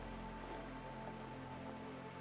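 Fine rain falls steadily by a lake beside a wooden dock at a Finnish spa, a soft, even hiss of drops with no other sounds or voices.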